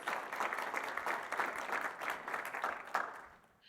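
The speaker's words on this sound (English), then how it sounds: "Round of applause." Audience applause after a presentation on hog farms and community health, a continuous burst of many hands clapping at fairly close range that tapers off at the end.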